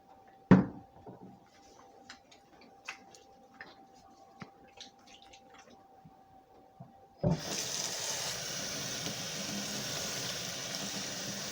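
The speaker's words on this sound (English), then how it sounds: "Got to wash my hands." A tap is switched on in a kitchen and water runs steadily into a sink for hand washing, after a stretch of quiet clinks and small handling sounds.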